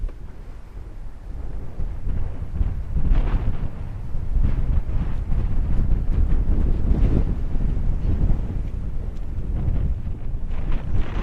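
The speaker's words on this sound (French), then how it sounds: "là ça a l'air de bien souffler" Strong outdoor wind near Lorient and Ploemeur on the Brittany coast buffets the microphone in heavy, continuous low rumbling gusts that swell and ease over about eleven seconds, loud and close, with no speech.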